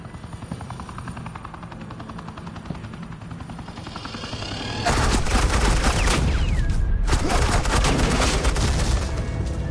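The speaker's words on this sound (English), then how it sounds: "This is Agent Quinn, suppressing fire." Suppressing gunfire in a Batman video game, a sudden loud burst of rapid shots breaking in about halfway over a steady whirring background, with a short gap before the firing resumes.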